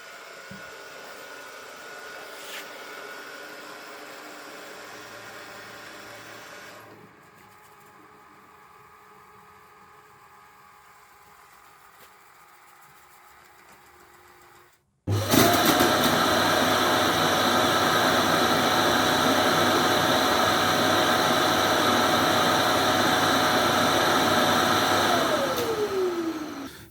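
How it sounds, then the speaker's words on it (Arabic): Ecovacs Deebot X1 Omni robot vacuum docking station emptying the dustbin: a low hum and quieter whir, then a loud steady rushing suction roar for about ten seconds that winds down at the end, close up. "هذا الصوت اللي سمعتوه هو صوت تفريغ سلة القمامة"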